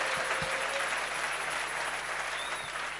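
A church congregation claps hands in praise, a dense, steady wave of applause filling the hall evenly throughout, with no voices on top.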